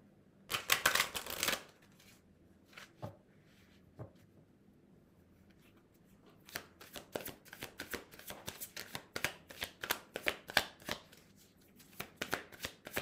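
Oracle cards being shuffled for a reading: a loud burst of riffling first, then scattered soft taps, and finally a long run of rapid, crisp card flicks in an uneven rhythm, close by and alone.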